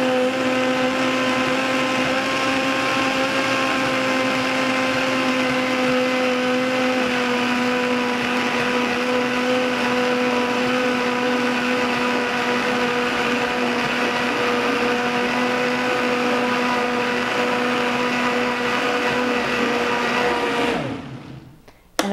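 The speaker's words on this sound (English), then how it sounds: "Blend this together. Start on low and work your way up to high." A blender runs steadily on a thick raw flax chili cracker mix, a loud continuous whirring drone with a sustained hum that holds for about twenty seconds before cutting off abruptly at the end.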